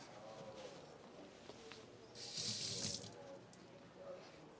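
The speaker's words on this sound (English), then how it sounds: "it is a good idea to just give this a quick rinse. So I'm just going to quickly rinse this off." Water from a kitchen tap runs over a plastic milk carafe from a Saeco espresso machine, a quiet steady hiss swelling into a brighter, louder gush for about a second in the middle before easing off again.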